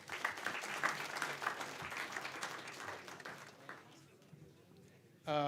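An audience applauds a winner during a livestream event, with fairly quiet dense clapping that tapers off over several seconds before a voice comes in.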